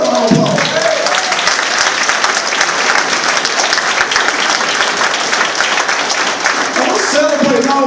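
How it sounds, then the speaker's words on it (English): Loud, sustained audience applause for a student, dense clapping that fills the room, with a voice speaking briefly at the start and the end. "Give her a round of applause."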